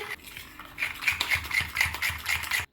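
A utensil stirs juice into flour in a bowl to dissolve it for a venison stew, making a steady rhythmic series of light scraping clinks, about eight quick strokes, close and clear.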